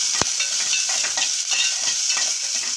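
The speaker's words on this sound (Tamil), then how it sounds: "அப்போ நல்லா வறுத்துக்கலாம்." Fennel seeds and curry leaves frying in hot oil, giving a steady bright sizzle and crackle that runs unbroken throughout, with a sharp pop near the start.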